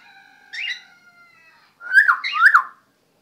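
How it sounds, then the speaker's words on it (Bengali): A pet mynah bird gives loud, harsh squawking calls: a short burst, a pause, then a longer, louder stretch of grating, warbling screeches close by, with no talking. "প্রিন্সেস তুমি চিল্লাচ্ছ কেন"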